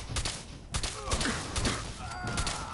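Rapid bursts of gunfire from a weapon in Fallout 4 on PS4, a loud sequence of sharp, closely spaced shots ringing out over a busy game soundscape.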